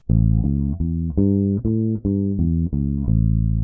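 A bass guitar plays a clear, separated dominant seventh arpeggio of about eight notes, rising and falling at a steady moderate pace, loud and close.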